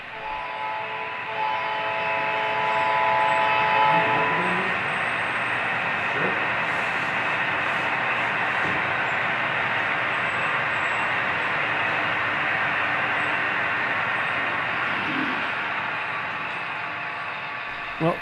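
An HO scale model Southern Pacific work train, pulled by a super-detailed Athearn Blue Box SD40-2 on a large DCC layout, pulls out with a steady mechanical hum, rail clatter and faint clicks throughout, loud and close.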